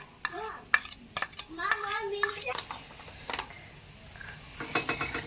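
Sour yogurt spooned into a metal tiffin bowl for a bean (sim bhapa) spice mix, heard as a few light clinks and scrapes, near and brief, with voices, including a child's, chatting intermittently.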